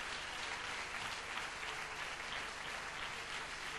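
A church congregation applauds in praise during a bilingual worship service: continuous, fairly quiet clapping from many hands, steady and without a break, with no talk over it.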